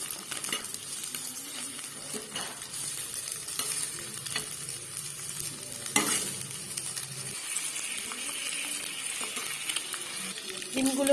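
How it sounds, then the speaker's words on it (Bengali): Eggs frying in oil in a wok, a steady close sizzle broken by a few sharp scrapes and clinks of a utensil against the pan, with no talking over it. "এক পিঠ হয়ে গেলে আরেকটা পিঠও ভালো করে ভেজে নিতে হবে।"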